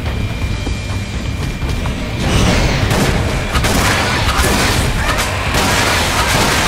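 Gunfire in the video game Resident Evil Umbrella Chronicles, a loud, steady barrage of shots and booming impacts that swells after a quieter opening and keeps pounding to the end.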